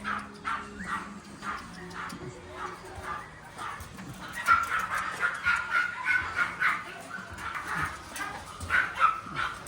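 Several dogs bark and yip in quick repeated bursts inside a pet shop in China, some whimpering mixed in, fairly close, with a voice talking underneath.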